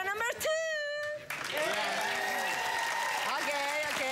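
A TV dating show's studio audience applauds after a host's voice and a brief musical sting, clapping swelling into a steady, loud wash of crowd noise with chatter mixed in.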